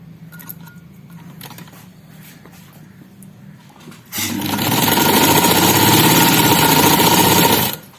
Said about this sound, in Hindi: अब हम इसके साथ से यूं सिलाई लगा देंगे